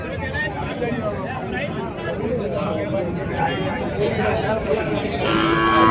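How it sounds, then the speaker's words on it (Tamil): Cattle lowing at a large open-air cow market in Matrapalli, Tirupattur district, with moos blending into steady crowd babble and someone talking close by. "வாங்கி கட்டி கட்டி வச்சிருக்கக்கூடிய மாடுங்க இதுங்கெல்லாம்"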